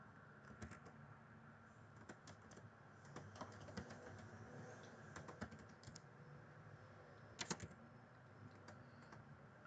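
Typing on a computer keyboard while working in CorelDRAW, a quiet, irregular run of key clicks in short bursts, close and faint, with no talking.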